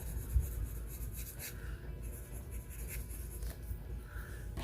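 A pencil shades on paper with a faint, close, continuous scratchy rubbing in repeated strokes, with no talking.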